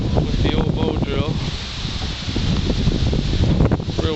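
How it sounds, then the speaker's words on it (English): Gusty wind in the woods buffets the microphone and rustles through leaves and branches, a loud, continuous roar that rises and falls. "It's real windy today, so I gotta be careful."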